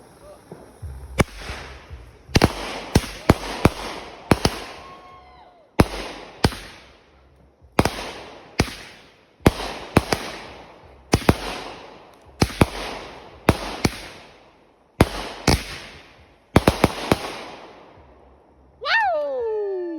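A string of loud Red, White, and Boom firework bursts and crackles pops off in rapid clusters, each bang ringing out briefly before the next, ending with a whistling shriek.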